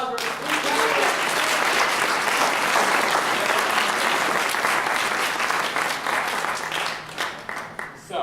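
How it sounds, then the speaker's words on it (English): An audience at a FIRST robotics team-building event applauds three candidates, a loud, close burst of clapping that holds steady for several seconds, then thins and tapers off at the end. "let's get a round of applause for the 3"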